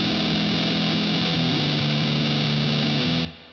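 Shoegaze electric guitar picked up by three microphones blended in a mix, a dense distorted wall of sustained chords with a steady drone, loud and unbroken for about three seconds before cutting off abruptly.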